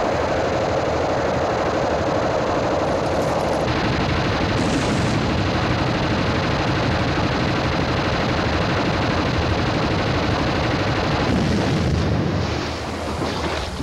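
A Phalanx close-in weapon system fires a sustained, dense buzzing barrage, loud and continuous, shifting in tone partway through and fading slightly at the end, with no talking.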